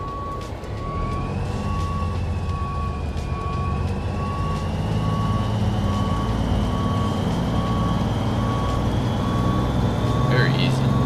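A truck backing a trailer in American Truck Simulator, with a steady, continuous reversing beep over a loud, constant diesel engine drone, close and sustained throughout, with brief chatter near the end.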